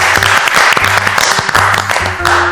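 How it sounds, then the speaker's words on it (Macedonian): Studio audience on a Macedonian cooking reality show applauding two chefs, a dense, loud burst of clapping that carries steadily through, with a low music bed underneath. "Голем аплауз за двајцата"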